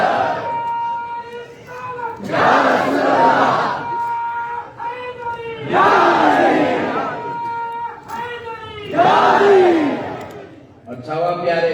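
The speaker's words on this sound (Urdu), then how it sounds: "کیا ٹھنڈے نعرے لگا رہے" A crowd at a religious gathering shouts slogans in unison, with several loud collective bursts separated by brief pauses, and each surge swells and fades like a call-and-response chant.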